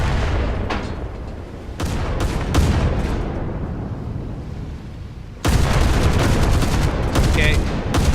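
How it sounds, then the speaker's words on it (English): Twenty-millimetre cannons fire from a warship in a video game, loud, dense rapid bursts of gunfire that roll on continuously and jump to a heavier barrage partway through. "you get these 20 mil cannons here"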